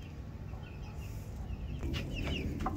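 Mapuche laying hens with their newly hatched chicks, soft hen clucks and faint high chick peeps over a quiet farmyard background, a few short calls toward the end, no talk.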